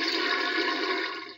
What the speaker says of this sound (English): the toilet flushing.